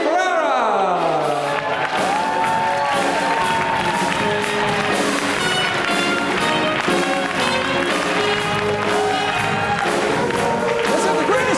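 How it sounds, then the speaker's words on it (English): Wedding guests at Merion Tribute House applaud and cheer the maid of honor, matron of honor and best man. Dense, continuous clapping and whoops fill the room, with music and voices mixed in throughout. "put your hands together for the maid of honor, matron of honor, and best man"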